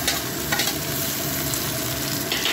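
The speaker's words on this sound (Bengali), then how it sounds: "একটু ঘি দিয়ে দিয়েছে, এবার টমেটোটা দিয়ে দিচ্ছে" Tomatoes sizzle and spit loudly in hot ghee in a pan, a dense continuous frying hiss with a few brief stirring scrapes, close up and without speech.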